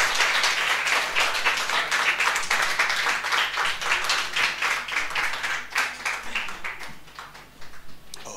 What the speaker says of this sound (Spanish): Póngase en pie y dele un aplauso al Señor.